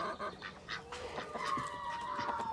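Ducks quack repeatedly in short, nasal bursts, several birds calling close by with no talking.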